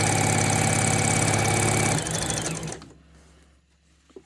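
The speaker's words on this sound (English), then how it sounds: "Line it up again for the straight, and then sew down." A sewing machine runs in a steady rapid whir while stitching down a piped cushion cover, then slows and stops, leaving a faint click at the end.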